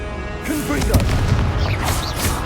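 Confringo blasting spell explosions from the video game Hogwarts Legacy, booming bursts layered over busy combat noise and a faint voice, loud and continuous across the short span.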